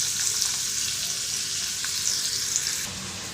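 Finely chopped onion fries in hot oil with cumin in a pan, a steady close sizzle throughout with no talk.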